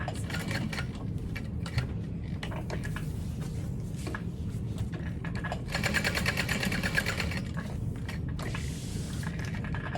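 Sewing machine stitching a box stitch on a crossbody bag, a continuous rapid mechanical whirring with brief pauses and a louder burst midway, close and steady.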